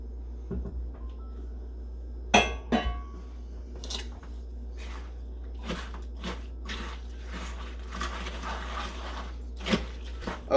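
A broccoli and corn mixture being stirred into stuffing in a pot, giving close, sporadic soft scrapes, squelches and crunchy thumps over a low steady hum, with no talking.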